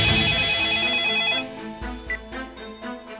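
A telephone rings in a Hindi film scene: a bright, repeating electronic ringtone, loud at first, then fading into a softer musical background with a few light knocks.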